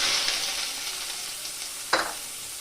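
Whole cumin and onion frying in mustard oil in a kadai, a steady hissing sizzle with a sharper burst of spatter near the end, close and alone.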